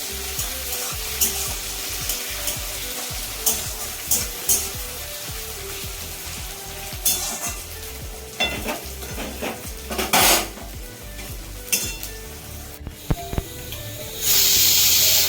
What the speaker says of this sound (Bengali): এবারে টমেটো কুচি আর পেঁয়াজটা ভাজতে হবে যতক্ষণ না টমেটো গন্ধটা যাচ্ছে